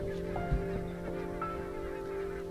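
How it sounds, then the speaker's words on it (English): Barnacle geese honk at a Scottish river in repeated nasal calls from a flock, moderately loud, over a steady background drone. "Every winter, barnacled geese arrive right on cue at the same Scottish river."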